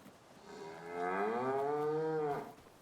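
A single long cow moo from a farm herd swells in the middle and tapers off, loud and close, with no talking over it.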